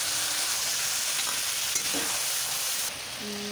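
Ginger, garlic, onion and ground cumin, coriander, chilli and turmeric hit hot oil for a taro and prawn curry, producing a loud, continuous sizzle and crackle close up, easing slightly near the end.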